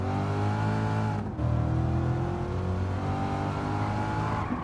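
A Chevrolet C7 Corvette accelerating on a track, heard from inside with a loud steady engine drone that briefly drops at a gear change and then climbs in pitch again, with no talking.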